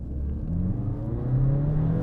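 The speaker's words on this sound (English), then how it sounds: "I was having wheel spin in 4th gear there, so 3rd and 4th, full wheel spin" A 2020 Ford Focus RS with a 520 hp Mountune m520 kit accelerates hard from a rolling start, its engine drone rising steadily in pitch and loudness with a deep rumble as the wheels spin.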